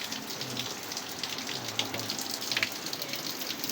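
Rain falls on a street during a junk-collecting round, a steady hiss of drops with scattered patters on nearby surfaces, continuous and moderately close.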